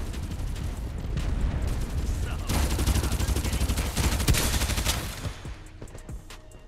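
Dense, loud bursts of gunfire from a match of the battle royale game Farlight 84, rapid overlapping shots that intensify midway and trail off at the end, with a voice speaking faintly underneath.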